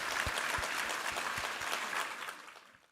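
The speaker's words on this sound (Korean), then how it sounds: "우리 하나님께 감사와 영광의 박수 올려드리겠습니다" A church congregation applauds together during a Sunday service, a dense, steady wash of many hands clapping that carries on before fading out near the end.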